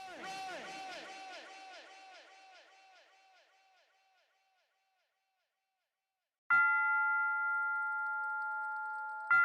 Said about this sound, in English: I now have bells ringing out behind me